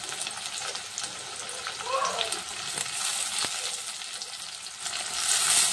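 Tomatoes added to a frying pan with onion, sizzling and crackling steadily, close and fairly loud, with some stirring and a brief clink midway.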